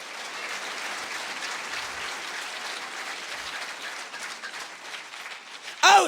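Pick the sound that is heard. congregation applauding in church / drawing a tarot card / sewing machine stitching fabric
congregation applauding in church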